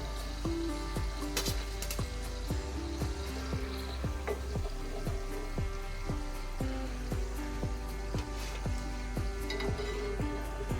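Crisp wheat-flour and jaggery kapnya, dotted with poppy seeds, fry in hot oil with a steady sizzle, while a utensil taps the pan in a quick, regular string of light clinks throughout.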